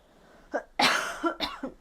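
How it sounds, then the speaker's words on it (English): A person coughs in a few harsh bursts, close and loud, with a couple of rough throat sounds and no speech. "Sorry I'm coughing so much, guys."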